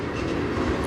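CN freight train passing at night on the Strathroy Subdivision, a steady loud rumbling roar of railcars rolling by close, with faint clatter and no voices.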